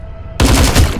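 Assault rifle gunfire in Hitman Absolution bursts in abruptly after a quiet moment and holds as a loud, dense automatic stream of rapid shots for the rest of the second.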